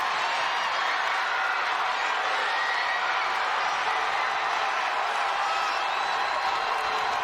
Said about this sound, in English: I think the crowd's into this right now.